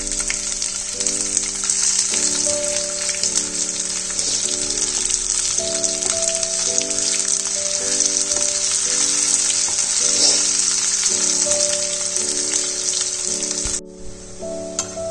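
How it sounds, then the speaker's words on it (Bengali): Chopped onion and fried garlic sizzle loudly and continuously in a pan, a close, dense crackle with background music and no speech, easing off briefly near the end. "রসুনটা ফ্রাই হয়ে গেছে, এবার আমি এর মধ্যে পেঁয়াজ কুচিটা অ্যাড করে দিলাম।"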